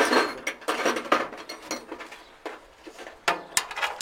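A bolt is screwed by hand into sheet metal on an old machine, giving a string of irregular close metallic clicks and scrapes with short pauses between turns, no talk.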